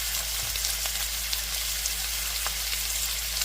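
Alcohol sizzles and burns off in a hot pan during Chinese sauce stir-fry cooking, a steady close hiss that stays even for the whole stretch, with no talking.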